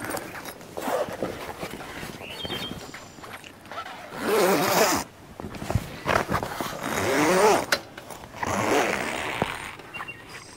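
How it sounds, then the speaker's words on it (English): Zipper on a homemade camping awning being pulled open and closed in several long rasping strokes, close and fairly loud, separated by quieter handling and rustling of fabric. "zip that's already on the awning actually wraps around the corner a little bit"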